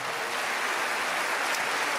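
Sustained applause from a church congregation during a Sunday sermon, a dense, even wash of clapping that holds steady without pause.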